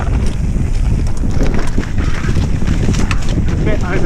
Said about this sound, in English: It's a bit windy now after my little lunch break.